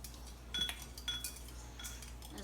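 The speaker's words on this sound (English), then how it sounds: "Stir it up." A utensil stirs lo mein sauce with white pepper in a small bowl, making a few light metallic clinks and scrapes against the dish in quick intermittent taps, close and fairly quiet.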